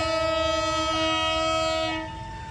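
A locomotive stands at Probolinggo station on a red CC 2018346 diesel working the Probowangi service, sounding a loud, steady multi-tone horn that holds for about two seconds before dropping away over a diesel rumble.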